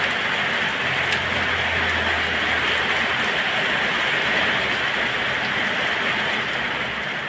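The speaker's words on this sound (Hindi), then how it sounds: "बहुत ज़्यादा तेज़ बारिश हो रहा है" Heavy rain pours on a wooden house in a dense, steady hiss, loud and unbroken throughout, with no voices.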